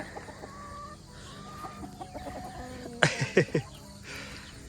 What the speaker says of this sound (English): But the chickens came out.